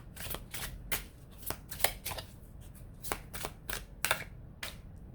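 Tarot cards are shuffled by hand in a quick, steady patter of crisp riffles and soft slaps, close and fairly quiet, with no talking.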